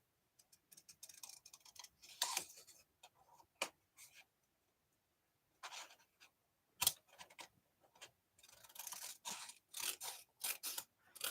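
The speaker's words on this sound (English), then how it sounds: "that's the beauty of having a pair of scissors. You can cut it down. So I'm going to cut that off," A pair of scissors cutting at a crafting desk, giving sparse, sharp snips and clicks in irregular clusters, quiet and close, with silent gaps between them.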